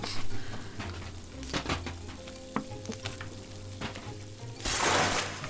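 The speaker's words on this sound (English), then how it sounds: "you gotta put your banana right on top of the grill, and that's how you make a perfect grilled banana" In the Octodad: Dadliest Catch game, a banana laid directly on a stovetop grill sizzles and fries steadily, with loud clattering knocks and thumps in between and a louder hissing burst near the end.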